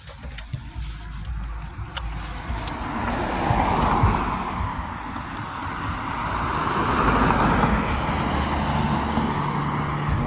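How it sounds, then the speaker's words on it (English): Morning road traffic heard outdoors on a walk: a continuous broadband rush of passing vehicles that swells and fades as cars go by, fairly loud and close, with no talking. "Lots of traffic out here this morning."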